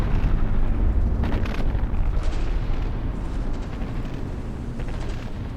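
Shell impacts and explosions in a naval battleship game, a dense, continuous low rumble of booming blasts with sharper bursts near the start, loud and steady throughout with no voices.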